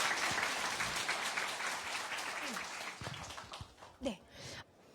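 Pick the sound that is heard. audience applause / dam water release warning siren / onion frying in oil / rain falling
audience applause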